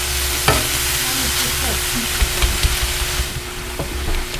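Steady sizzle of cheesesteak meat and onions frying on a Dyna-Living commercial electric flat-top griddle, with scraping and tapping from a spatula stirring the food in an irregular rhythm, close and fairly loud with no talk.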